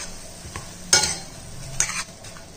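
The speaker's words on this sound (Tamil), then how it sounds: "எல்லாத்தையும் மிக்ஸ் பண்ணிக்கிடுவோம்" Tamarind, asafoetida and salt being stirred and sautéed together in a pan, giving a low sizzle with two sharp scraping strokes of a spoon against the metal, close and fairly quiet.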